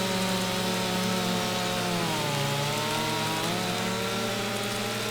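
A chainsaw in Farming Simulator 25 runs continuously with a loud, buzzing engine whine, its pitch dipping briefly midway as if under load before steadying again, with no voices.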